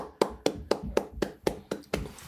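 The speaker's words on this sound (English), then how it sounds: "let's clap for them." Students' concert performance met with steady claps, about eight evenly spaced sharp hand claps, close and fairly loud, like one or a few people clapping in rhythm over a low background.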